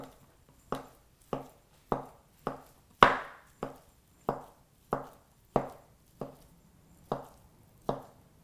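A knife chops imitation crab meat on a cutting board in about a dozen steady, evenly spaced thuds, close and clear with nothing else heard.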